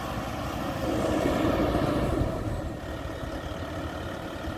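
A Kobelco SK140LC excavator's heavy diesel engine rumbles steadily nearby in a rice field, growing slightly louder then settling, with no voices.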